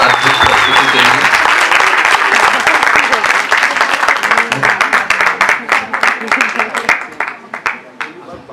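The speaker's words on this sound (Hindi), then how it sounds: "एक बार जोरदार तालियों से अभिवादन करिएगा इस अद्भुत प्रस्तुति के लिए।" Loud, dense audience applause after a theatre performance fills the space, a steady roar of many hands clapping that thins into scattered claps and fades at the end.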